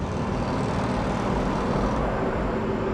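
A slow Chinese truck's heavy engine drones steadily and loudly while climbing uphill, a dense low rumble with no clear changes, close by.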